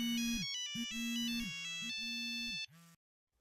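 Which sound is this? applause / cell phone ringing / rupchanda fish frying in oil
cell phone ringing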